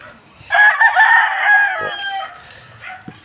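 A gamefowl stag from a Gilmore and McLean hatch cross crows once, loud and close, in a long harsh cock-a-doodle-doo that lasts about two seconds, followed by a few soft clucks.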